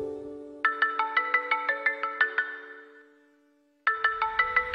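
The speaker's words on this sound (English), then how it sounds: "whenever you hear that ringtone, your mind will shift to this marksman state" A phone ringtone plays as a trigger: a quick run of bright, evenly spaced electronic chimes that rings steadily, fades away, then starts again after a short silence. Loud and close, with no one talking.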